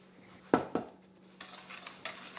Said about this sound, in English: Gonna cream that together.